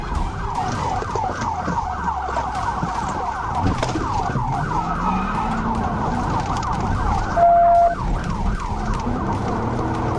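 A police car siren wails through a high-speed highway chase, cycling in rapid repeated yelps over engine and road noise, with a brief steady tone partway through.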